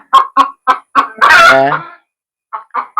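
Domestic chickens kept at home for household use, clucking and squawking in a quick run of close, loud calls with one longer drawn-out cry in the middle, then a short pause before more clucks.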